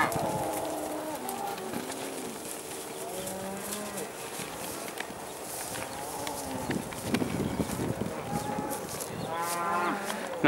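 Young calves moo again and again as they are let out in spring, overlapping bellows near and far over a busy farmyard with birdsong and scuffling hooves.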